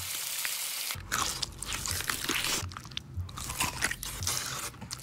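Crisp, loud bites into spicy, crunchy fried chicken, several crackling crunches and chews in close succession from a Korean advert, with no talking.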